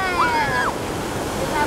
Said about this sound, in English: The waves were getting a little big.